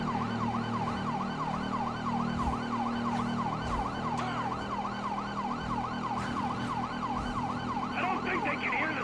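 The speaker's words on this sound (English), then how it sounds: "I don't think they can hear the sirens." Police sirens wail in Grand Theft Auto V, several overlapping sirens cycling up and down without a break over engine noise throughout a car chase.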